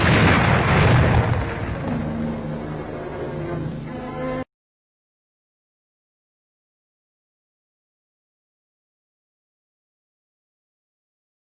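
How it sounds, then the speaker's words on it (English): An ordinary bomb explodes on contact on an old WWII-era film soundtrack, a single roaring blast that rumbles and decays over about four seconds before cutting abruptly to silence. "First, an ordinary bomb exploding on contact."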